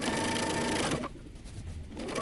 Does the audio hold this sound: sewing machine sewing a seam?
yes